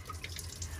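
Hot water running from a faucet in a Coachmen Beyond RV, a brief steady splashing rush close by with no voices.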